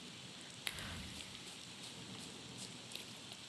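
Soft rain falls at night in a cemetery in the video game The Thaumaturge, a faint, steady patter with a couple of brief sharper drips, quiet and without voices.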